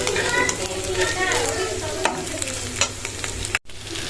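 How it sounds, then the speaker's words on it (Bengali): Two eggs being scrambled in a pan, giving a steady close sizzle with scraping and stirring clatter throughout and a brief cut near the end. "এখানে 2টা ডিম স্ক্রাম্বল করা হচ্ছে।"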